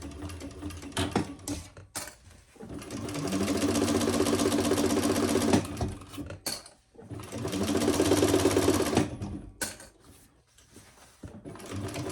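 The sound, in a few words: sewing machine stitching a seam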